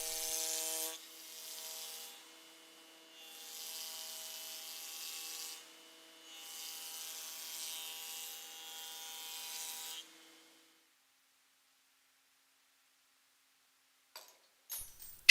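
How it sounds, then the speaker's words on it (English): A Felder CF 531 combination machine working as a jointer planes solid wood in three whirring passes separated by short lulls, then falls silent before a few faint clicks. "we will use the jointer"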